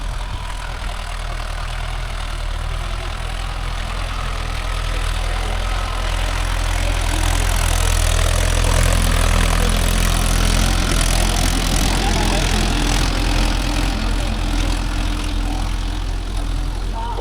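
A John Deere 5050D diesel tractor runs steadily with a loud, continuous low drone and clattering texture, close by and without pause for the whole stretch.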